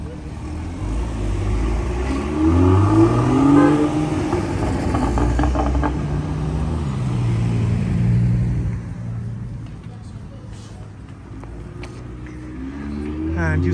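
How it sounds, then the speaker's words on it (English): An Austrian tour bus drives through a small pilgrimage town, its engine a loud, sustained rumble close by that gradually fades, with outdoor street ambience around it. "sure sign, buses are in town. This one from Austria."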